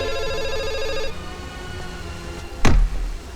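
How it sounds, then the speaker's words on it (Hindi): A telephone rings with a repeating electronic tone for about a second, followed by quiet room sound and then a short loud clatter. "फोन बज रहा है।"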